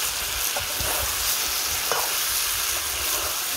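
Goat meat being stir-fried kosha-style in a pan, nearly done and browning, with a dense continuous sizzle up close and a few soft scraping stirs of the spoon, no voices.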